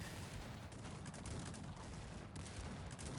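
Cannons and musket volleys in a Cossacks 3 battle, a continuous dense crackle of distant massed gunfire with booming reports, steady and fairly faint throughout, with no talk.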